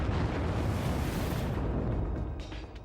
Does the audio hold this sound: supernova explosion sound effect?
yes